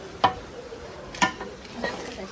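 Spiced meat being stirred and sautéed in a pan, three distinct scraping strokes of a utensil about a second apart over a faint, soft sizzle.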